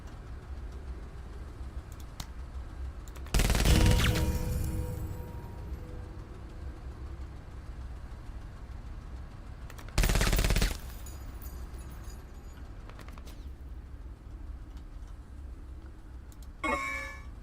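Heavy gunfire in the tactical game MENACE, two loud bursts of shooting that stand out sharply against a quieter battlefield hum, with a smaller crack near the end.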